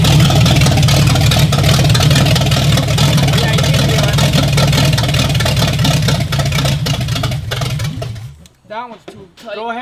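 A Rambler's engine idles low and steady during a valve adjustment, a close, rough mechanical drone with ticking on top. It drops away near the end as a voice speaks.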